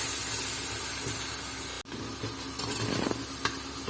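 Chopped onion with crushed ginger-garlic sizzling steadily in hot oil in a pan, with a brief pause followed by scraping stirs and renewed frying hiss close by.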